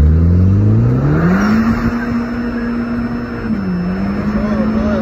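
An Audi engine revs under a pressed gas pedal, its loud rising and falling drone sustained throughout, with a voice faintly present.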